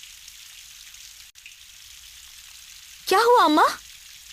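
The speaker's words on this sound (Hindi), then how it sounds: "तेज बारिश हो रही थी।" Heavy rain pours down as a steady, soft hiss, with a brief spoken question breaking in near the end.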